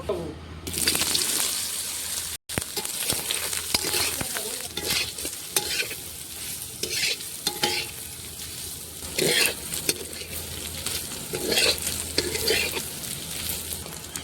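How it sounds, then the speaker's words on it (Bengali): Steady sizzling of small paneer pieces frying in hot oil, loud and close, with occasional clatter and stirring sounds throughout. "এর মধ্যে এখন ছোট ছোট করে কেটে রাখা পনিরগুলো দিয়ে দিব।"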